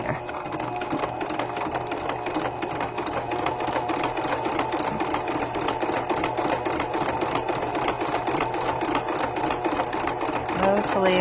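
A sewing machine runs a zigzag stitch over ribbon on a handmade journal cover, with a steady, close, continuous whirring mechanical rattle that lasts throughout.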